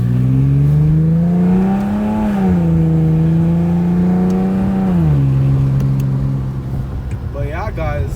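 A tuned Infiniti G37 pulls hard with a loud exhaust, its engine drone climbing, holding and then dropping after a gear change, up close and continuous, with people talking faintly underneath.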